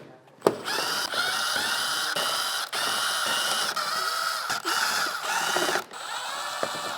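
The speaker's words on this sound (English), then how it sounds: "we have a whole bunch of 10mm bolts that we're going to go ahead and remove from the front here" A power tool, likely an impact driver or drill, removes 10mm bolts from the underside of a BMW G8 in a series of loud close whirring bursts separated by short pauses, with no talking.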